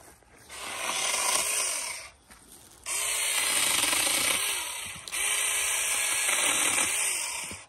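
A Saker mini chainsaw cuts into a dead pine tree low on the trunk, its loud buzzing motor running in three sustained bursts separated by short pauses.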